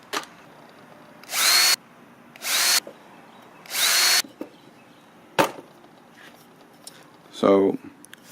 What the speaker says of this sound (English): Let me just go ahead and drill that real quick.